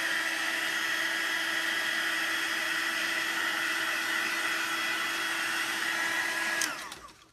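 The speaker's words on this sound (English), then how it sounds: "grab your heat tool" A handheld heat tool blowing hot air onto watercolor ink, a loud, steady whirring blast with a fixed whine that holds evenly for several seconds, then cuts off and winds down near the end.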